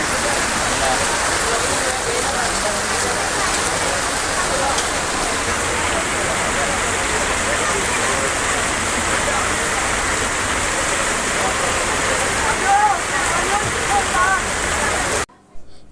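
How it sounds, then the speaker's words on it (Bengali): Heavy rain pours outside a hotel at Patenga sea beach in Chattogram, a dense, loud, steady roar of falling water that fills the whole stretch without easing, until it cuts off abruptly at the end. "এটা এখন আবার আরও প্রচুর বৃষ্টি হচ্ছে বাইরে"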